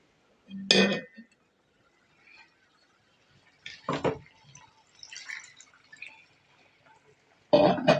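Water splashes and pours into a metal pot of fish theeyal curry in a few short bursts, with light clinks of the pot between them.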